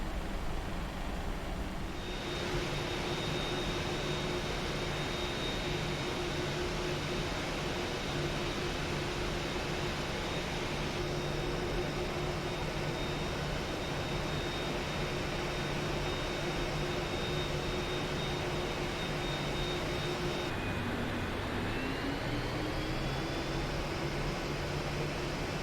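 A PMDG 737 NGXu in FlyDubai livery taxis in the Prepar3D v5.1 flight simulator, its jet engines giving a steady, loud hum with a high whine that holds constant, then shifts upward in pitch near the end.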